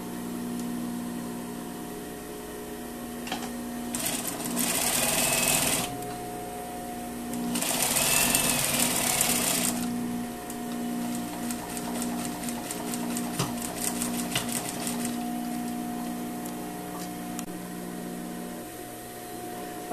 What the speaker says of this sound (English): you're going to stop sewing and back tack at the fold line